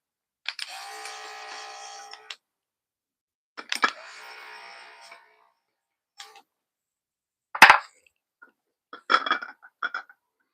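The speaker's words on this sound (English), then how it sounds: "set my sprayer into like the strongest setting. I just like to spray the dried leaves down" Strong water sprayer misting dried leaves inside a terrarium: two long hissing bursts of spray, then a few short clicks and taps from the bottle, close and fairly loud with no voices.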